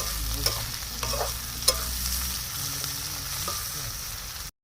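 Onions frying until brown in a pan, a steady sizzle with a few stirring knocks and scrapes close by, ending abruptly.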